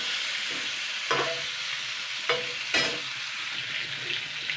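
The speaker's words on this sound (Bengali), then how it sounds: "ভালো করে উল্টে পাল্টে কিন্তু ভালো করে কিন্তু ভেজে নেবো" Katla fish pieces fry in hot oil in a pan, a steady loud sizzle broken by a few sharp clanks and scrapes as the pieces are turned over, heard up close without talk.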